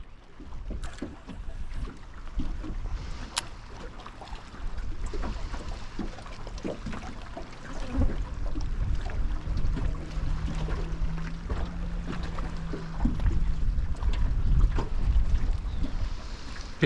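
Wind buffets a small fishing boat on open water near Karumba, a steady rough gusting rush with low microphone rumble and light water slaps against the hull throughout.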